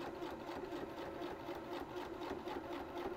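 A sewing machine runs continuously down a seam, with a fast, even, rhythmic stitching hum heard up close and no talk over it.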